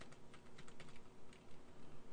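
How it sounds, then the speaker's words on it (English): Page up and page down keys are pressed on a computer keyboard, giving a quick run of soft, close plastic key clicks in an uneven rhythm. They play over a low background hiss with no speech. "in our keyboard we can press the page up and page down to move"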